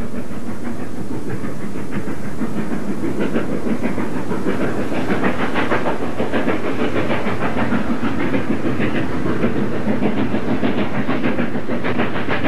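A New York Central steam locomotive hauling a train runs steadily at speed, with continuous chuffing exhaust, hissing steam and rhythmic clickety-clack of wheels on rail joints, loud and close throughout with no voices.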